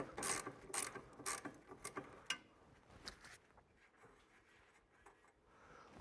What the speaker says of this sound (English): So we'll grab our wrench and our ratchet